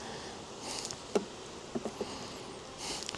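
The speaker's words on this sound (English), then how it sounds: "nice box of bees" Honeybees in a full hive box, a faint, low, steady hum of many insects with a few soft taps and bumps scattered through it, no voices.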